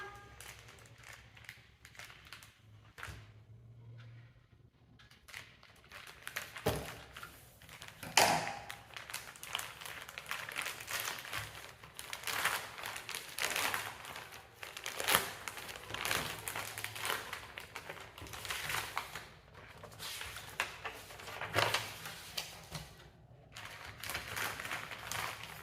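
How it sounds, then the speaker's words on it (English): A storybook package being cut open, with a long stretch of close, irregular crinkling, tapping and scraping of packaging material and no talk. "I'm gonna cut it now"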